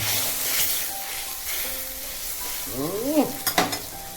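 Poppy seed paste thinned with a little water goes into a hot pan and fries with a continuous soft sizzle. Stirring scrapes and a few louder spits come near the end, close up with no talking.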